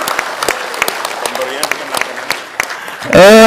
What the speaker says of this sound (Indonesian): Mari kita berikan aplaus yang luar biasa kepada Anies Baswedan